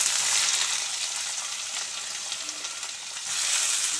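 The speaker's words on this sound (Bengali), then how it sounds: "কুঁদরিগুলো ঢেলে দিতে হবে।" Ivy gourd pieces sizzle loudly and steadily in a pan of oil with fried chopped garlic, a continuous dense crackle with no talking.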